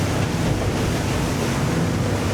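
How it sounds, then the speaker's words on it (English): A Regal 43LX boat runs through waves, and wind and rushing water make a loud, continuous wash with no breaks or voices. "And going through our waves now."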